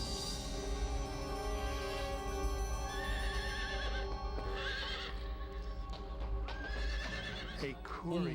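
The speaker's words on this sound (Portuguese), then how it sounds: "Um mensageiro chegou a cavalo" A horse neighs repeatedly as a messenger arrives on horseback, whinnies rising over clopping hooves and a dramatic musical bed, moderately loud and close.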